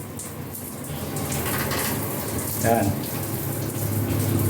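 Water streams from a newly installed handheld shower in a bathroom, a steady hissing spray close by, with a brief voice speaking over it.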